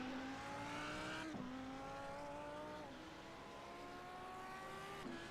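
An Audi R8 LMS GT race car in iRacing at Spa Francorchamps pulls through the gears, its engine note climbing steadily with sharp upshifts around every second or so, moderately loud and steady throughout.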